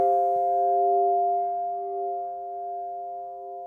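Synth tone run through a convolution reverb with a metallic impulse layer, giving steady ringing metallic harmonics that sustain and slowly fade, heard alone with no talk.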